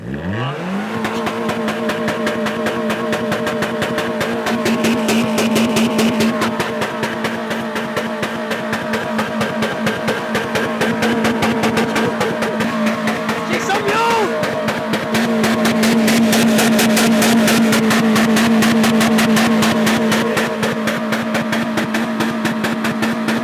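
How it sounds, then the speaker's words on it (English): A Toyota Corolla left unstarted for a month, running on a battery pack, cranks over and fires on a cold start, then idles loudly and revs repeatedly up against the limiter in sustained, buzzing bursts close by. "the lads are going to do a cold start on this Corolla that hasn't been started in about a month"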